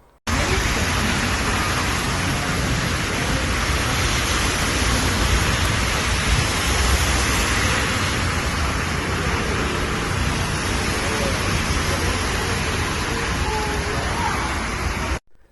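Heavy rain pours steadily onto a queue of people waiting outside a bakery in Buca, İzmir, a dense, unbroken hiss that stays loud and even from start to finish.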